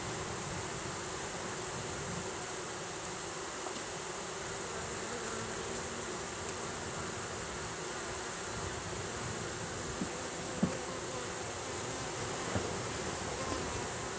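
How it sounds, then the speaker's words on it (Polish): A dense, steady buzzing hum of many honeybees fanning to ventilate the hive, droning continuously, with a few faint clicks and knocks. "Tutaj widzimy jak większość pszczół e, wentyluje ul"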